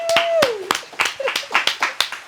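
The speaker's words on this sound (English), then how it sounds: "Everybody in here is going to give her a round of applause." A round of applause from a small group in an indoor room, roughly a dozen sharp, uneven claps over a couple of seconds, close by, with a brief voice at the start.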